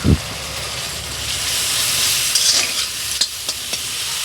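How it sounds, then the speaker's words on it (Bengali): Tomatoes with salt and turmeric stir-frying in a hot pan, a steady loud sizzle with spatula scrapes and a few sharp clinks, close up and without speech. "এটাকে ভালো করে কষিয়ে নেব"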